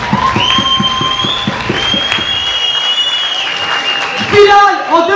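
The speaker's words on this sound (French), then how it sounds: "Je vous applaudis bien fort, s'il vous plaît," An audience applauds with rhythmic clapping and cheering at a dance battle, loud and near, while a voice talks over the crowd and a bright tone sustains in the background.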